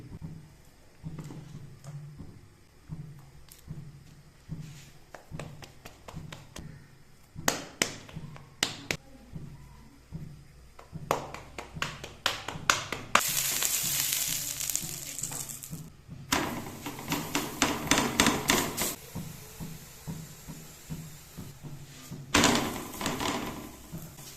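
Desi ghee sizzles on a hot griddle while corn flour (makki) roti cooks, with soft taps and handling clicks leading into louder bursts of frying hiss midway and near the end, with no talk.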